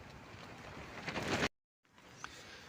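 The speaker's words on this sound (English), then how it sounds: "this is much stronger wind than that forecast says" Strong coastal wind gusting at Torrevieja, roaring broadband noise with microphone buffeting that builds to a peak, cuts out briefly, then returns as a lower steady rush.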